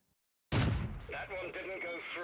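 A Churchill VII heavy tank's cannon shot bounces off an enemy tank in World of Tanks: a sudden loud, booming blast followed by a ringing, rumbling tail, with a voice speaking over the decay.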